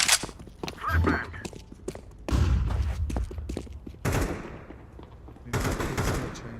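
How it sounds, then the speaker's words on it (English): A flashbang grenade going off in Counter-Strike 2 amid loud explosive bursts and gunfire, several heavy booming impacts with ringing decay, close and intense. "Flashbang."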